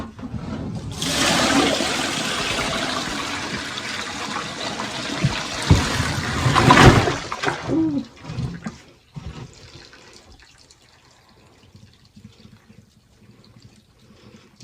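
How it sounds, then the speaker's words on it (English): Dirty wash water poured out of a bathtub after hand washing clothes, a loud rushing gush for several seconds that tapers into trickles and drips, close up with no talking. "this water is dirty. It doesn't smell fresh. So I'm going to pour it out."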